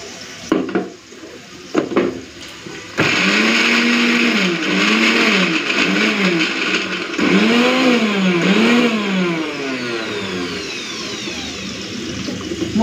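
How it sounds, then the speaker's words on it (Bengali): A few kitchen clinks come first, then a loud electric blender grinds ginger, garlic, green chili, onion and whole cumin into paste, its motor whining in rising and falling surges for about ten seconds. "আদা, রসুন, কাঁচা লঙ্কা, পেঁয়াজ দিয়ে দিয়েছি, অল্প একটুখানি দিলাম গোটা জিরে। এরপরে সব কিছুকে একসাথে বেটে নেব।"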